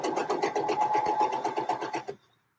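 A sewing machine stitching a dress strap runs in a fast, steady needle rhythm for about two seconds, close and moderately loud, then stops abruptly into silence.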